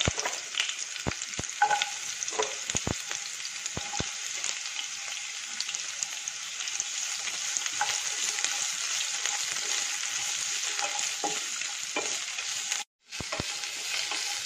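Onion and green chili sizzle and fry in hot oil with a steady crackle that runs throughout, broken by a few stirring scrapes and one brief drop in level near the end.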